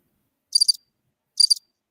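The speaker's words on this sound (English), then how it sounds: "crickets, y'all got crickets now? Really?" Crickets chirp in two short, bright trilled bursts about a second apart, clear and isolated against silence.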